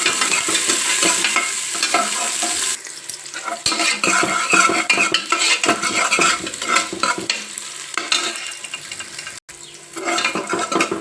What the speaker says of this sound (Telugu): ఉల్లిపాయ కూడా వేగింది కదా.